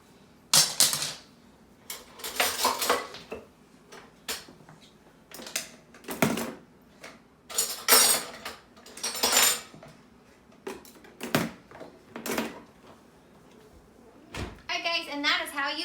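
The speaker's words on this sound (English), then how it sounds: "Now it's on to our silverware." Metal silverware clattering and clinking as it is pulled from a dishwasher basket, a series of sharp irregular jangles spread across the stretch, with a person talking between the clatters.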